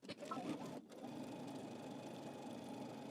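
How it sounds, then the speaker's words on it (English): A sewing machine runs steadily while stitching a dress hem, a close, continuous mechanical whir that starts with a brief uneven patch before settling into an even drone. "You're going to stitch your entire hem back stitch at the end."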